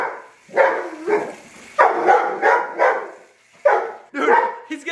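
Several dogs barking at an inflatable couch indoors, with repeated close, loud barks and some yips in uneven bursts.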